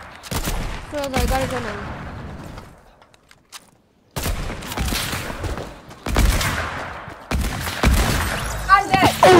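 Sniper rifle shots fired without scoping in a video game crack out as several sharp, loud bursts spread across the stretch, mixed in with continuous casual chatter from players.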